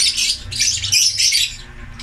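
A bird calls over and over with shrill, close squawks and chirps that run almost without a break.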